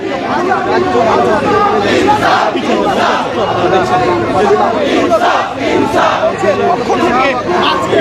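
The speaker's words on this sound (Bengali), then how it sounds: "আজাদি আজাদি স্লোগান দিয়ে যাচ্ছে" A dense protest crowd chants rhythmic slogans in unison at a demonstration against US-Israeli strikes on Iran, loud and continuous with overlapping voices and shouts throughout.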